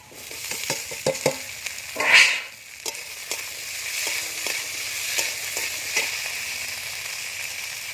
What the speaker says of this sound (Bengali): এবার দিয়ে দেবো কাঁচা টমেটো